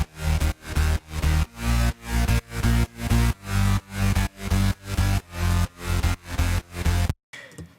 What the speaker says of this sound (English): So the bass line solely sounds like this.